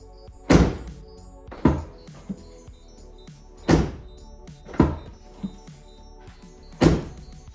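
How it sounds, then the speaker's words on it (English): A vehicle's heavy tailgate door, fitted with a Molle panel tailgate table, slams shut several times at irregular intervals, each a solid, close thud with a brief rattle-free decay. "you can hear me open and close that door and slam it shut"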